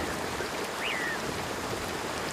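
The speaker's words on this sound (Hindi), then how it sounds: "जैसे जैसे बारिश तेज होती गई" Heavy rain pours steadily in a cartoon scene, a dense even hiss of falling water filling the clip with a faint brief chirp partway through.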